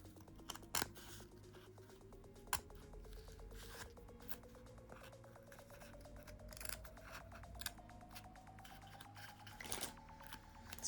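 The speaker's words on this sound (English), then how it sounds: "I have actually got a little bit of felt overhang here, so I am going to trim" Scissors trimming an overhang of felt: a run of quick, crisp snips close by, with a few sharper cuts standing out and no talking.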